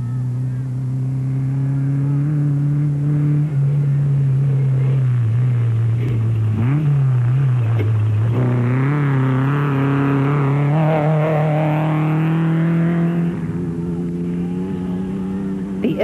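A Toyota Hilux off-road rally race truck roars past with a sustained, loud engine drone that rises and falls in pitch as it accelerates and shifts, heard up close throughout.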